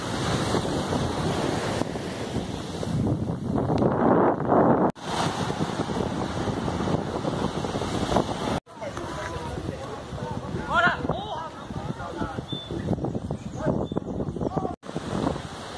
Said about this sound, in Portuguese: o finalzinho de tarde aqui na praia de Candeias